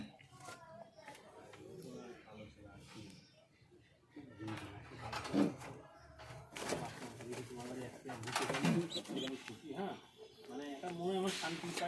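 Lotan pigeons coo softly in low, repeated rolling calls, with a few louder bursts. A person talks over them much of the time.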